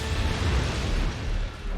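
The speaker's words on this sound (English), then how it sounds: "Starscream blowing up the mines" Explosion of the mines in an animated Transformers Prime episode, a dense loud rumbling roar filling the whole short stretch, with no talking.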